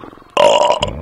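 A game character in The Whispered World lets out one loud, drawn-out belch that cuts in suddenly after a quiet start and ends with a short gurgling tail.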